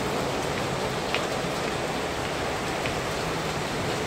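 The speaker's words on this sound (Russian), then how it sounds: "О, Господи, слышите шум дождя" Heavy spring rain pours down hard in a constant dense hiss, with occasional louder drops standing out from the steady roar and no voices heard.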